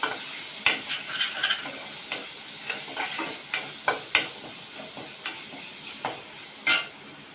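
Paste of hot green chilies being stirred into a mixture in a pan over low heat, with a soft sizzle under repeated scraping spoon strokes and occasional sharper knocks; no voices.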